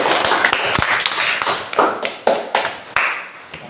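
Classroom applause: a group of students clapping hands together, loud and close, with uneven sharp claps that quicken and then thin out toward the end, no speech over it.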